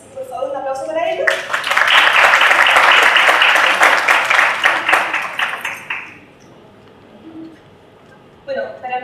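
An audience at a talk on dogs and fireworks breaks into loud, dense applause that swells quickly, holds for about five seconds and then tapers off, with a voice speaking before and after.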